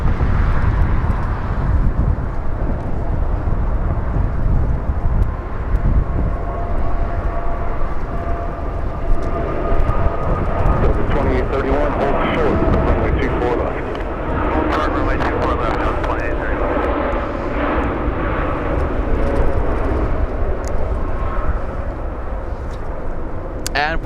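A Boeing Dreamliner jet takes off at LAX, its engines a long, loud roar that builds and sweeps with shifting whine, while people talk over it.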